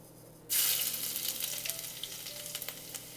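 Curry leaves dropped into hot oil for a Kottayam-style red fish curry: a sudden loud burst of sizzling that settles into a crackling, popping fry.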